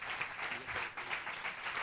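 An audience applauds as scientist Carlos Briones is called up to give his talk at Ciencia Jot Down 2017 in Seville, a fairly soft, steady wash of many hands clapping with no voices over it.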